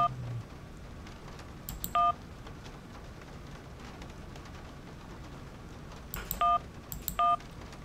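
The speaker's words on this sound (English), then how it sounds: "Call my cell phone." Cell phone keypad tones dialing in the Syberia adventure game, two short pairs of beeps early and two more near the end, heard over a low steady rain-like background hiss.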